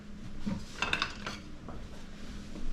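A wooden spoon scrapes and knocks around the bottom of a skillet. The clatter is close and comes in brief bunches over steady cooking noise, with no talking.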